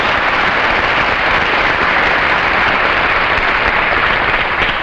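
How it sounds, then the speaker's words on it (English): A large crowd applauds and cheers for tennis champion Althea Gibson in New York, a dense continuous wash of clapping, loud and unbroken for several seconds. "Let's give her a real New York cheer, won't you?"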